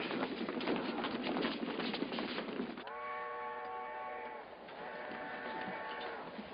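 A train runs in a 1944 film scene, first a loud, steady rumbling roar, then sustained harmonic tones like a whistle or horn sounding over the continuing rumble. No one speaks.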